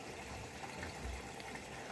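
A Bosch Serie 4 washing machine taking in water for a soak cycle, a steady, faint, hissing rush of flowing water that runs without a break for the whole moment.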